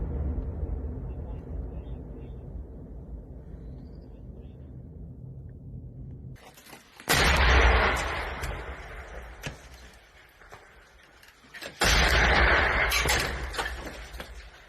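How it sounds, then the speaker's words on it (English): Artillery fire around Severodonetsk during the Ukraine war, with heavy low rumble under the field noise and two loud, sharp blasts a few seconds apart, each trailing off into a rumbling decay. "You now hear the artillery coming along around the area"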